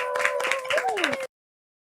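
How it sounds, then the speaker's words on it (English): A small group claps in a brief round of applause that lasts about a second and cuts off abruptly, with a voice speaking over the clapping. "Round of applause."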